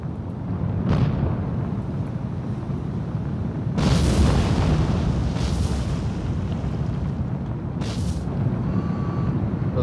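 In War on the Sea, a troop ship's magazine blows up: heavy booming blasts rise out of a steady low rumble, three strong bursts spaced a few seconds apart, with no voices.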